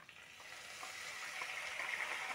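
Ground spice paste sizzles in hot oil with half-fried potatoes, a faint, even frying hiss with occasional soft stirring scrapes, no voices.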